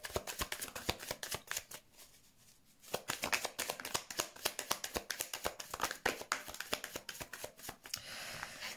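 Tarot cards being shuffled by hand, a rapid series of crisp riffling slaps in quick bursts, close and distinct, with one brief quiet gap before the shuffling resumes.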